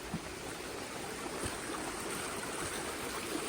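A river flows steadily, its broadband rushing wash holding an even level throughout, with no voices.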